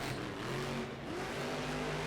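The Gravedigger Monster Jam truck's engine revs hard in an indoor arena in Lincoln, a loud sustained roar with rising and falling pitch that holds for the whole stretch.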